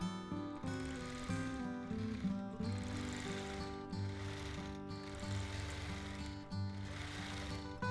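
Quilting machine stitching a custom quilt, backtracking over earlier stitching, a close, continuous mechanical hum with a rhythmic ticking pulse and brief dips where the motion pauses.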